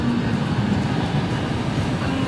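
Train passing on a railroad track through a small town, a loud continuous low rumble and rattle of wagons rolling by close at hand.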